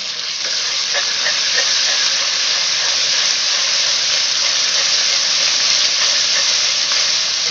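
Ginger-garlic paste frying in a pan with onions that have turned pink, for an aloo matar mixed vegetable dish; a loud, steady, close sizzle hisses on without pause and with no voices over it.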